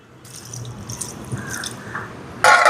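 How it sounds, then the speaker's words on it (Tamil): Coconut milk, first pressing, poured into a pot for a stingray fish curry with tamarind, a soft liquid trickle and drip ending in a louder splashing pour near the close. "இதோட தேங்காய் பால் சேர்க்குறேன்"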